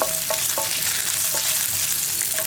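Coconut pieces sizzle and fry steadily in a pan, with a spoon stirring and scraping in short intermittent strokes over the continuous crackle, close and alone with no voices.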